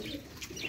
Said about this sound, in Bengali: বিভিন্ন জাতের কবুতর।